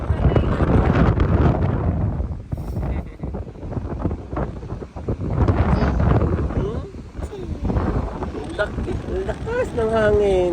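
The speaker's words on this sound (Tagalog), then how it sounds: "Lakas ng hangin." Strong wind buffets the microphone outdoors near the water by rice fields at high tide, roaring steadily throughout while people talk over it.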